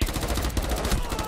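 Rapid repeated bursts of gunfire-like blasts and impacts in a Rainbow Six Siege match, loud and dense, pounding in a fast rhythm for over a second.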